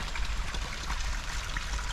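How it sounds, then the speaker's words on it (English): A small mini waterfall trickles and splashes into a stream in wet UK moorland, a steady close hiss of running water with no talking. "Nice little mini waterfall there."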